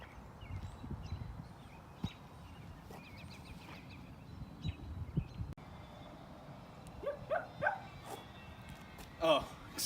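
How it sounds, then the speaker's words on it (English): Dog barking somewhere near an outdoor housing estate, short bursts scattered across the stretch and loudest near the end, heard alongside someone talking. "Must have been a dog barking."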